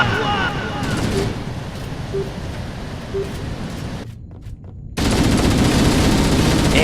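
Enemy Elite gunfire in a video game, continuous rapid automatic shooting that briefly cuts out and then returns louder, with voices faintly audible underneath.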